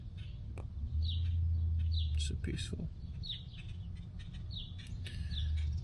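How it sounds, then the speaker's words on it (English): Small birds chirp and tweet in short scattered calls across a backyard, with a low steady hum of distant traffic underneath and a person speaking briefly. "Just sit here and listen to the birds."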